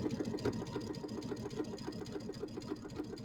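A sewing machine stitches the binding onto a small Kimberbell mini quilt, a steady rapid mechanical whirring and clatter that runs continuously and close up, with no talking.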